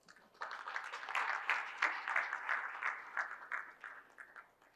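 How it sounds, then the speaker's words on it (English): Audience applause welcoming a speaker at an inclusive finance conference, a fairly faint burst of clapping that swells quickly, holds for a few seconds, then thins out. "Please welcome with an applause."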